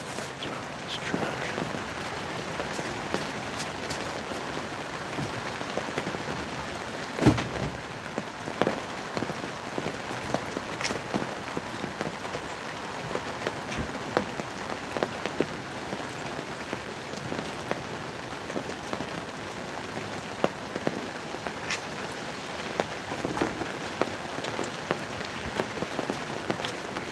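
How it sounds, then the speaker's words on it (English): Rain pattering on an umbrella overhead during a North Carolina rainstorm, a constant dense hiss broken by frequent sharper drips and taps, close and steady, with no talking. "You can still stay here under the umbrella listening to the rain"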